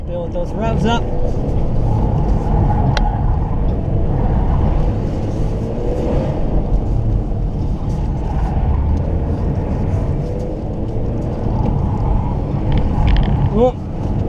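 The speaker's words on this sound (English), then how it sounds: "Build those revs up, build those revs up." A car engine drones loudly and steadily at an autocross event, its pitch rising and falling as it revs, with wind noise and faint talk mixed in throughout.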